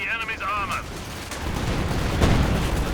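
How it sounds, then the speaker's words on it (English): Heavy gunfire rumbles in a Company of Heroes 2 battle with a Maxim machine gun firing, a dense, continuous bursting roar that swells toward the end after a brief whine at the start. "Maxim still firing through it though, as it is known to do"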